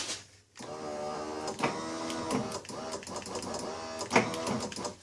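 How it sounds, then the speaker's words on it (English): A power window motor in a 1995-1999 Nissan Maxima door runs steadily with a close, continuous whirring hum and a few sharper clicks, with no talk over it. "obviously you hear the motor running"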